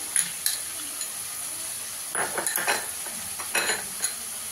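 Spice masala mixed with beaten yogurt is stir-fried in a pan over a low gas flame: a soft, continuous sizzle with bursts of spoon scraping and stirring up close.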